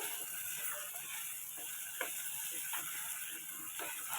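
Masala frying in a pan with garlic, ginger and tomato for an Indian curry, a steady soft broadband sizzle with faint occasional ticks and pops, continuous and close.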